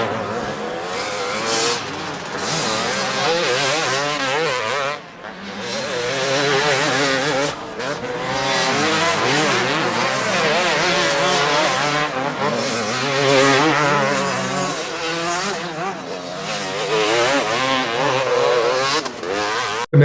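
Off-road race cars roar past at the finish line of a dirt track race, engines revving hard and loud in overlapping waves for a long stretch, with brief dips between passes.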